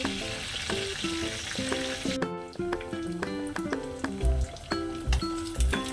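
Fish fries in an oily pan with a steady crackling sizzle. The frying sits under background music with pops and a few low knocks.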